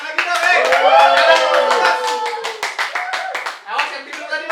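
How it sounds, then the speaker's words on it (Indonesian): An audience at a local fashion brand talk show applauds, dense clapping heard under and alongside speech, loud at first and thinning toward the end. "Tepuk tangan lagi dong"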